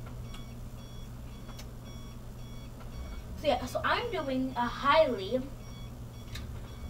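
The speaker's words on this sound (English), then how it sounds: "sorry about the beeping noise." A faint electronic low-battery beeping tone from a hoverboard, steady and repeating, runs under someone talking, with a low continuous hum throughout.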